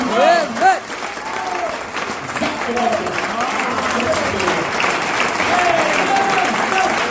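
A church congregation at a pastor's ordination service bursts into loud, sustained applause and cheering for Jesus, a dense clapping wash lasting throughout, with a few excited voices calling out over it.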